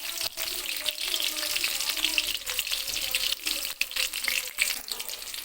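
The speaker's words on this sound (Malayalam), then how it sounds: "ഇനി അതിലേക്ക് ഞാൻ ആദ്യം വെളുത്തുള്ളിയാണ് ഇട്ട് കൊടുക്കുന്നത്." Garlic frying in a mix of ghee and sunflower oil makes a close, continuous crackling sizzle, broken now and then by short gaps and small pops.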